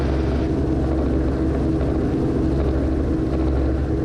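Steady drone of a Heartland Helicopters training helicopter in flight near gross weight, rotor and engine noise constant and close throughout, with no talk.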